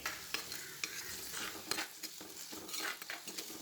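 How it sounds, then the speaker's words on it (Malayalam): Onions for a prawn roast are sautéed in a pan, giving a quiet, close sizzle with repeated scraping stirs and light utensil clinks at an uneven rhythm. "ഓക്കെ, നമുക്കിനി ഇത് നന്നായിട്ടൊന്ന് വഴറ്റിയെടുക്കാം."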